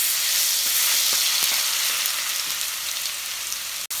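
Garlic fries in a pan, producing a steady close sizzle with soft crackles throughout and a brief break near the end.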